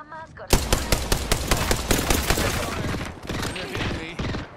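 Rapid automatic gunfire in Apex Legends, a dense loud burst of repeated shots with a brief voice heard at the start.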